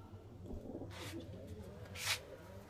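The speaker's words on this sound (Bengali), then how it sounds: "এই দেখো পায়রাটা দেখো" Pigeons in a loft coo softly and low, a faint murmuring under quiet room noise, with brief rustling and a bright scrape near the end.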